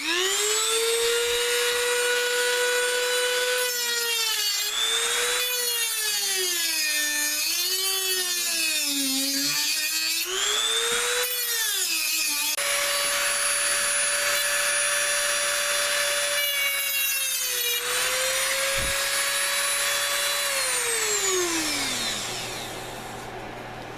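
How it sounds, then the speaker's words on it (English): A Dremel rotary tool cuts twine screen pieces resting on a stump, giving a loud, continuous high whine close by that rises and falls in pitch as the load changes, then winds down at the end. "So I'm gonna get my Dremel and we're gonna cut this off."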